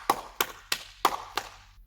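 A small group of parents and children applauds at the close of a home lesson, five sharp separate bursts of clapping spaced about a third of a second apart, fairly close and clear with quiet gaps between.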